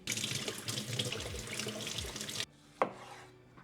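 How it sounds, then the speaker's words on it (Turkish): Tap water runs steadily into a kitchen sink while tomatoes and lemon are rinsed, a loud continuous splash that stops abruptly near the end, followed by a single short clatter. "Domates ve limon ekleyeceğim. Bir yıkayayım."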